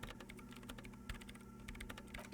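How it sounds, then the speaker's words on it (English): Fast, continuous typing on a computer keyboard in the video game Disco Elysium, as a character enters commands into a machine. The key clicks are steady and close, with no talking over them. "Her hands typing hundreds of commands into the machine."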